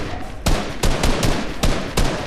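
Gunfire in Fortnite OG Chapter 1: about six sharp, loud shots spaced a fraction of a second apart, each a sudden full-band crack with no talk over them.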